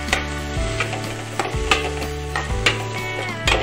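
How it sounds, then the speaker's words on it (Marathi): Chopped onion, capsicum, green chilli and tomato sizzle in a pan with egg while a utensil scrapes and stirs them in steady, repeated strokes, with no talking. "हे मी चांगल्या प्रकारे फिरून घेणार आहे।"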